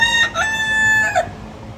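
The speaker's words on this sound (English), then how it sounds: "roosters seem to outnumber tourists on a recent weekday afternoon" Roosters in Key West crow loudly on a weekday afternoon, a close, drawn-out cock-a-doodle-doo followed by a second call, heard outdoors with no talk.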